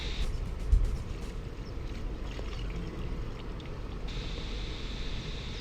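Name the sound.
rinsing out an airbrush cone filter with water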